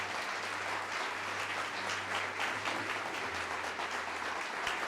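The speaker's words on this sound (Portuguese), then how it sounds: "vamos aplaudir mais ao nome de Jesus." A church congregation applauds together, a dense, steady wash of clapping that holds at an even level throughout, with a low hum running underneath.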